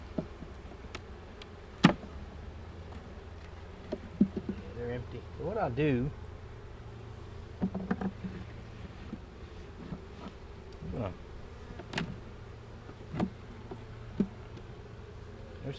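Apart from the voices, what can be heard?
bees buzzing around a hive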